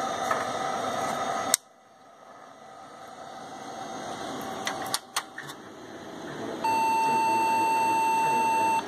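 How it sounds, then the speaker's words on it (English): A single long BIOS beep from an Asus P2B-S Pentium 3 motherboard with an Award BIOS, being tested after a power supply failure, sounds as a steady, clear tone over a hum of fans and clicks. "Get a beep code out of it now."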